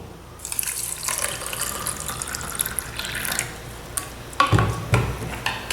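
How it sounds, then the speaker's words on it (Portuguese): Tap water runs steadily from a faucet into a drinking glass, a close, continuous hiss and splash, followed by a few clinks and sloshes of the glass near the end. "E em seguida a gente vai colocar em um deles a água da torneira."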